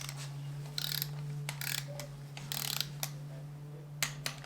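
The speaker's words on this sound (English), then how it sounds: "once I'm done with this guy, I'll be able to start torquing the center" Several short bursts of ratcheting clicks from a torque wrench tightening the cam bolts on a Honda short block with Skunk2 cams installed. A steady low hum runs underneath.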